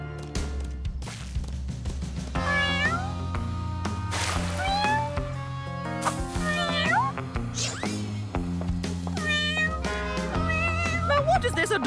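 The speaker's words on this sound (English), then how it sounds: "Now, what is this adorable yet strangely suspicious kitten up to?" Cartoon kittens from the PAW Patrol series meow repeatedly, with high rising and falling cries scattered over a steady musical soundtrack.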